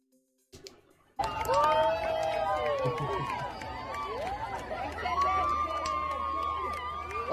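Applause and cheering from an animated crowd in a Mahjong video game, a dense steady patter that swells in and holds loud, layered with bright electronic chime and game-music tones.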